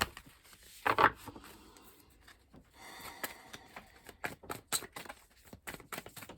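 Tarot cards being shuffled by hand, giving a series of dry, papery riffles and rubbing taps in uneven bursts, close by and fairly quiet, with no talking.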